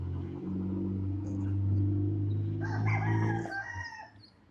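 A rooster crows once, loud and drawn out, over a low droning engine hum that fades near the end, on a Manila street.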